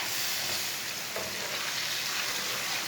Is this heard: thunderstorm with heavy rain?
no